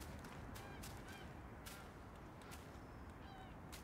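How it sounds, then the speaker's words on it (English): Chicken clucks from within the Black Myth: Wukong action game, a few short calls scattered over a steady bed of game ambience and effects, faint and somewhat distant. "Why do I hear a chicken?"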